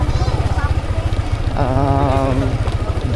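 A motorcycle running on the road with an odd humming, rattling noise, a loud steady pulsing engine throb close by, with a brief voice speaking partway through.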